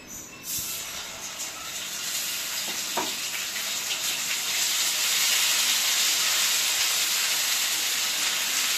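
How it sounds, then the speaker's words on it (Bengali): Steady, loud sizzle of ginger garlic paste frying in hot oil left from frying fish, a continuous hiss that swells and holds without pause. "আদা রসুনের পেস্টটা ভাজা হয়ে গেছে"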